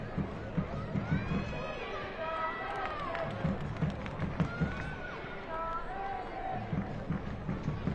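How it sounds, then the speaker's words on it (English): Crowd at a Spokane Zephyr FC versus Lexington SC women's soccer match chanting the name of player Amina Ekic in a repeated rhythmic call over general stadium noise, with voices audible throughout. "The crowd chanting Amina Ekic here in Spokane."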